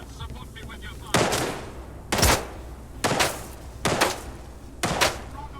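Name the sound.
gunfire in the S.T.A.L.K.E.R. 2 video game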